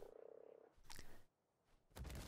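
A frog mount in the survival game Ark: Survival Evolved croaks in a fast, even run of pulses, followed by two louder, broader in-game bursts separated by a short quiet gap.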